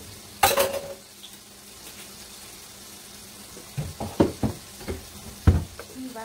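Pizza sauce with a teaspoon of balsamic vinegar being whisked in a bowl: a sharp clink near the start, a quiet gap, then a run of quick scraping, clattering strokes near the mic.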